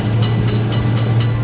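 A train passes a level crossing, a loud continuous rumble with a low hum and regular rhythmic bursts of wheel noise close by, no talk.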